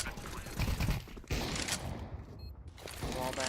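Gunshots fired through walls during a Counter-Strike match, a dense burst of loud, rapid shots with a shorter flurry near the end over constant game ambience.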